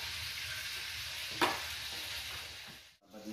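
Chicken pieces fry in hot cooking oil with a steady, close crackling sizzle, a brief sharper burst of spatter midway, and a short dip near the end.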